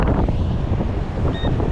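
Wind gusting across an open beach, buffeting the microphone in a steady loud low rumble with faint surf beneath, and no talking.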